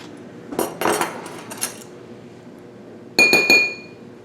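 A metal tablespoon clinks against dishes and glass in a kitchen during pumpkin scone baking, with a few bright, close taps early on and a louder cluster of ringing clinks near the end.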